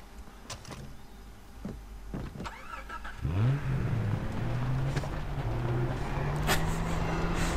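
A car in the video game Far Cry 3 starts up and revs: a few clicks and clunks, then the engine catches with a rising whine and settles into a steady, close mid-pitched drone.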